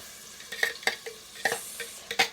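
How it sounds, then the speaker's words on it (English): Jalapeno and garlic sizzle quietly in a hot pan while a utensil stirs, giving soft scraping taps at irregular intervals over a steady frying hiss. "That's the jalapeno and the garlic sizzling"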